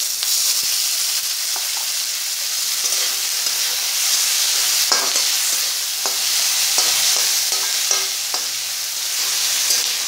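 Chopped tomatoes fry in a pan for chana, giving a steady bright sizzle with scattered stirring scrapes and clicks, continuous and close with no talking.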